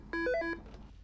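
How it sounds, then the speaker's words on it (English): A phone ringtone plays a short electronic melody of several clear tonal notes in quick succession, close and alone, then stops with a faint tail. "Wait up, that's my phone."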